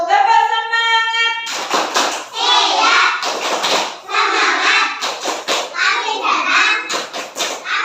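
A classroom of children performs a tepuk semangat clapping chant, with rhythmic bursts of claps mixed with loud chanting voices after a brief tonal intro.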